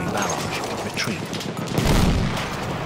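Heavy artillery booms and rattling gunfire fill a Battlefield 1 rush match, a dense continuous battle din that swells louder near the end.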